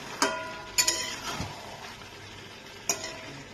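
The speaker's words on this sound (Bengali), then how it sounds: "এবার আলু আর মাংসের সাথে আমি এটাকে ভালো করে কষাবো।" Country chicken meat and pre-fried potatoes are stir-fried in a pan, with a soft, steady sizzle broken by a few sharp clinks and scrapes of a spoon against the pan.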